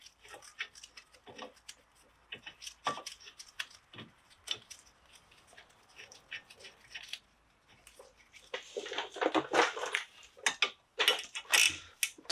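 A ratchet tightens brake caliper bolts on a 2014 Ford Focus during a front pad and disc job, giving irregular bursts of sharp clicking that grow busier and louder toward the end.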